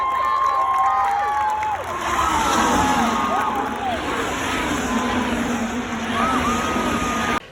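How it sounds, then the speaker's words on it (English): A large crowd at the 2024 Australian Grand Prix cheers loudly and steadily as Carlos Sainz takes the lead, with whoops and shouts rising over a continuous roar and some nearby voices mixed in. "This is the clip of everybody cheering when Carlos Sainz wins the lead."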